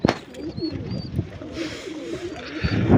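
Pigeons kept in a loft coo and rustle close by, soft low cooing calls with a few sharper flutters and thumps across a few seconds.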